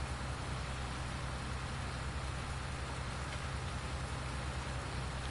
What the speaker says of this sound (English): It's probably all this rain making all the logs all really extra slippery.